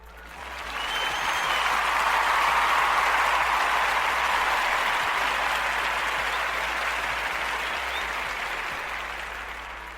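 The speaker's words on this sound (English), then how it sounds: "give this young man some applause." A sustained round of crowd applause swells quickly and holds as a dense, even wash of many clapping hands for about ten seconds, tapering slightly toward the end, with no voices over it.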